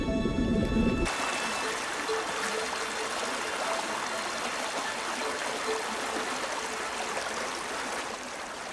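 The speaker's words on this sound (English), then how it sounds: "This burn draining through Hutton's land was the start of a long journey" A small burn drains through farmland, its steady broadband trickle and gurgle flowing close and unbroken after a brief louder rustle at the start, with no talk.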